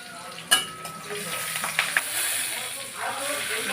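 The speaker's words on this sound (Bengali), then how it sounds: "কাঁচা লঙ্কা দিয়ে দিচ্ছি" Green chillies hit hot oil in a pan while tilapia curry is being cooked, giving a sudden sharp crackle and then a steady close sizzle with a few stirring clacks.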